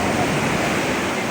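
Ocean waves wash onto a beach near San Ramon in summer, a broad steady roar of surf close and loud, with wind buffeting the microphone.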